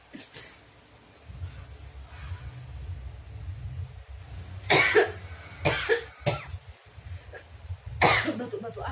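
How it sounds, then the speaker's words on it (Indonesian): A sick person coughing in bursts, three or four clustered harsh coughs close by, with a low rumbling background and brief murmured speech between them. "Batuk-batuk aja kenapa?"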